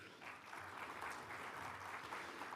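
Audience applause at a graduate nursing white coat ceremony, a steady wash of clapping from a crowd that holds at an even level throughout, fairly distant with a faint voice beneath it.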